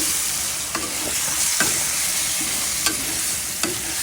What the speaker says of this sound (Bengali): আলু ঝিলা একসাথে বেজে নেব